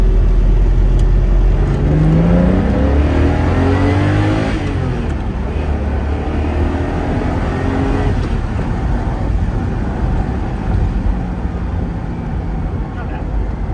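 A Ferrari Testarossa V12 revs up and winds down in a rising and falling roar, loud and close, settling into a steady rumble through the rest.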